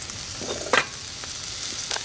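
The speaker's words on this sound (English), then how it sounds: "So just in the wok, a couple of cloves of garlic, and we will just cook this very briefly." A couple of garlic cloves fry in a wok with a quiet, even sizzle, marked by a sharp clatter of stirring partway through and a few softer taps, no talking.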